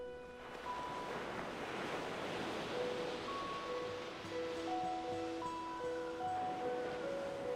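Ocean waves rush and wash in a continuous, broad roar of surf with breezy, windy texture, while soft sustained tonal notes drift faintly above the water.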